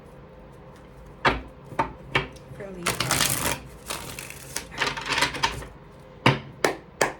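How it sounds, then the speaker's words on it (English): Cards are shuffled in quick riffling bursts and sharp taps, close up, with a brief spoken phrase in between. "Let's do one more shuffle"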